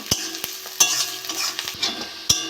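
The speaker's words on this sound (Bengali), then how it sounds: "পেঁয়াজটা একটু ভাজা করে নেব।" Onions fry in a wok with a soft sizzle beneath repeated utensil scrapes and clacks as they are stirred, close and fairly loud, with no talking.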